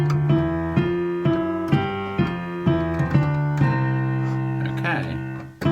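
Boogie woogie piano riff played at a faster tempo, with a repeating left-hand bass pattern under chords in a steady, bouncy rhythm, close and fairly loud.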